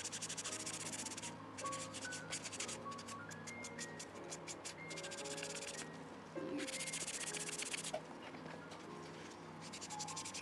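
Steady scrubbing of a Louis Vuitton bag to lift water stains, a continuous rub with brisk bursts of friction, heard close over soft background music.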